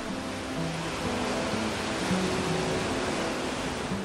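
Rough ocean waves at sea off Jeju wash in a continuous, loud broadband roar, steady and close with no talk.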